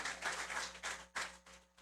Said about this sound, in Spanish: Así que denle otro aplauso a todos los que nos visitan hoy.